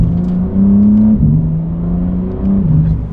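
A BMW M4 CSL sports car engine pulls with a steady, loud drone whose pitch steps up and down between gear changes, heard close and alone without talk.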